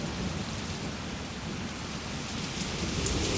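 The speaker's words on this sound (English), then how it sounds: "It's a flash flood!" A theme park ride's flash flood effect gives off steady, dense rain noise with low thunder-like rumbling throughout. It forms a continuous, moderately loud wash with no talking.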